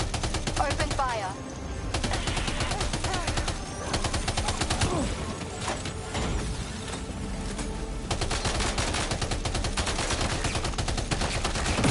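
Sustained gunfire in the video game Death Stranding 2, dense rapid automatic shots layered with game music and effects, loud and continuous for the whole stretch.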